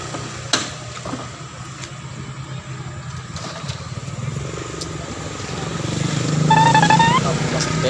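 A motorcycle engine runs in the background, growing louder toward the end, with voices nearby.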